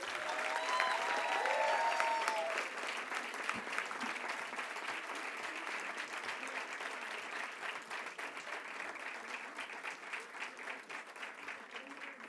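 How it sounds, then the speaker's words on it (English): A school annual day audience breaks into sustained applause for a student play, loud at first and then settling into steady, dense clapping that carries on throughout. "So now let's give them all a resounding round of applause,"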